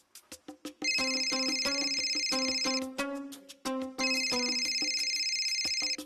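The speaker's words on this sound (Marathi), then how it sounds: "पक्षश्रेष्ठींचा फोन." A mobile phone ringtone plays loud and close, a bright electronic melody of repeated tones that stops briefly and then resumes, with no voices over it, in a Marathi TV drama scene.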